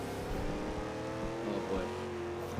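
A tuned car in the Forza Horizon 2 racing game, revving and drifting with a steady high supercharger whine layered over the engine drone, loud and continuous with brief tire noise.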